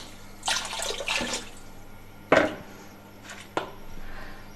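Water poured from a glass into a pressure cooker holding raw goat meat on a stove, in a few short splashing bursts with pauses between, close and moderately loud.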